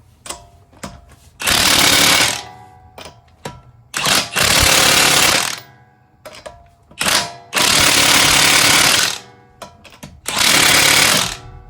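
Impact wrench with a torque stick tightening wheel lug nuts on a 2006 Honda Pilot 4WD, four loud, close hammering bursts of about two seconds each, separated by short pauses and small clicks.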